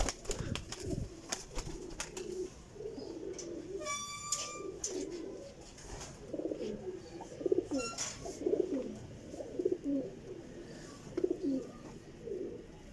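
Flying pigeons kept in a loft cooing repeatedly, a series of low rhythmic coos at moderate distance, with a few sharp clicks and rattles in between.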